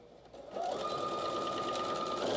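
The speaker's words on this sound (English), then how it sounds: "So I'm gonna back stitch here" A sewing machine set to a 3.0 stitch length back stitches a bomber jacket seam, a close, steady, even whir that starts abruptly and continues without a break.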